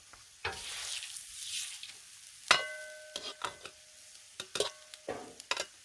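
Cajun fried rice is stirred and scraped on a Blackstone flat-top griddle. A soft steady sizzle runs underneath, broken by sharp intermittent spatula scrapes and clicks close by.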